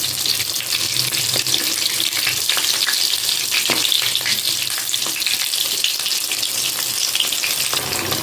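Paneer cheese pakoras frying in hot oil, turned over with a spatula: a constant crackling sizzle close by, with light spatula taps and scrapes throughout.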